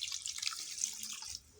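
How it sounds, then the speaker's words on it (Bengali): A little water splashes into a pan of papaya and catfish (magur) curry, a brief bright pouring gush that stops abruptly. "তারপর সামান্য পানি দিয়ে"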